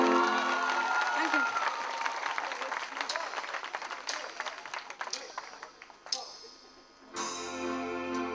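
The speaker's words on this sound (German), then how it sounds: "Applaus für die Daniela." Applause for a singing contestant at a regional talent show, a dense crowd clapping that fades out over several seconds before music starts.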